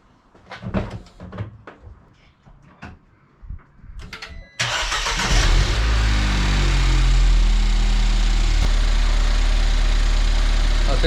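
A Ford Fiesta ST with a newly fitted Pumaspeed racing pulley: a few clunks and knocks come first, then the engine cranks, catches and settles into a loud, steady idle close by.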